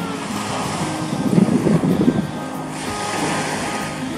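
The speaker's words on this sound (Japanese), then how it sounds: "海には、あ、今これが最大のセットぐらいか、うねりのみです" Swell waves from the Sea of Japan break in a shore break at evening, giving a steady low roar with wind noise on the microphone and one swelling crash in the middle, with no voices.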